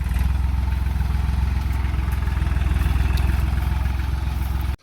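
A tractor engine runs steadily on a farm plot, a low rapid chugging rhythm with a mechanical clatter, close and continuous until it cuts off abruptly at the very end.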